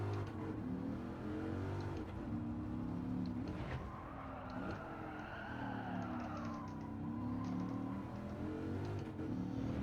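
A Dodge Viper's engine drones steadily in Gran Turismo 7 during a Blue Moon lap time challenge, with a pitch sweep and brief dip suggesting a gear change and some tyre scrub; loud and continuous, no talking.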